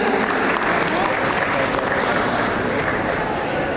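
Audience applause at an international runway fashion week show in a hotel, dense continuous clapping filling the room at close range, with a voice mixed in.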